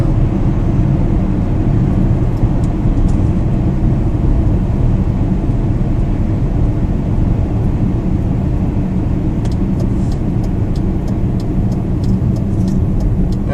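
A BMW E39 sedan converted to electric power rolls along on momentum after the pedal is released, giving a steady broadband road and tyre rumble with faint clicks near the end and no voices.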